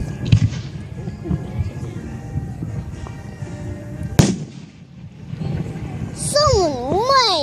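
Fireworks burst outdoors with a sharp crack midway and scattered pops, followed by whistling, warbling rockets near the end, while children chatter and exclaim throughout.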